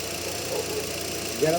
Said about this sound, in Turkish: şu motorun sesini size bir dinleteyim